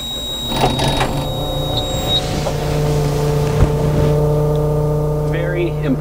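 A Cummins diesel engine in a machine being cranked and running, giving a loud steady low hum with droning harmonic tones, a brief sharp knock partway through, and a person speaking near the start.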